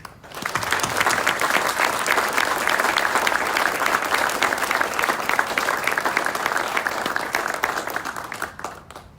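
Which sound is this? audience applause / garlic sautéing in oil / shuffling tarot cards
audience applause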